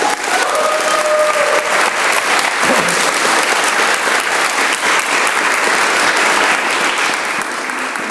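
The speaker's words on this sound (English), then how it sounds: "So I think the church itself deserves a round of applause for that." Sustained audience applause at a church civil-liberties rally fills the whole stretch, dense and loud, with faint voices mixed in beneath the clapping.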